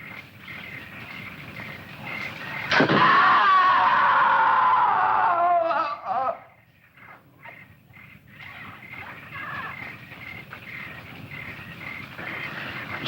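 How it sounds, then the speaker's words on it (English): A scream rings out in a jungle setting in a 1976 horror film, a loud, high, wavering cry of about three seconds that breaks off sharply, followed by quieter background ambience. "I'm sure I heard a scream."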